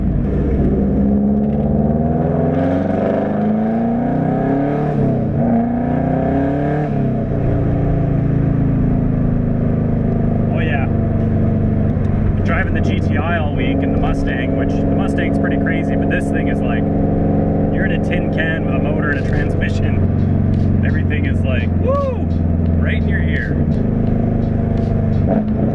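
A Subaru Impreza GC8 rally car engine runs loudly throughout, its pitch rising and falling with revs, while someone talks over it at times.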